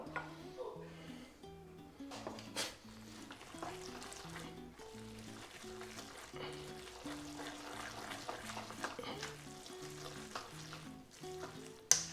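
Cacio e pepe pasta crackling in a pan as it finishes, a soft, steady sizzle with light stirring clicks and scrapes, quiet and close, with music playing underneath.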